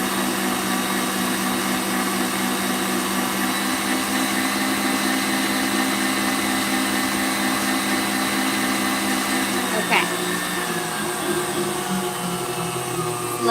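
A stand mixer whisks macaron meringue at high speed, a steady loud motor whine with a whirring whisk that keeps going without a break. Near the end the pitch drops as the mixer slows.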